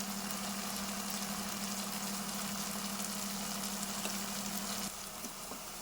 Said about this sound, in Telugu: ఆనియన్స్ మగ్గిపోయేదాకా వేయించుకోవాలండి